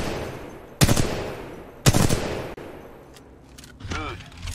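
Weapon fire on a practice range in Titanfall 2 gives two sharp, loud shots about a second apart, each with a short ringing tail. Fainter clicks and a whooshing electronic sweep follow.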